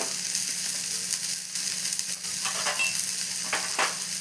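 A full bowl of onions sautéing toward golden brown in a pan, a steady close sizzle with occasional scraping stirs and brief clinks of the utensil.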